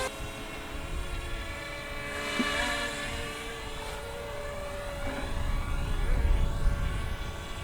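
A DJI Mavic Mini drone with an unstable flight fault flies nearby, a steady high-pitched propeller whine that wavers in pitch and swells somewhat louder toward the end, with no talking.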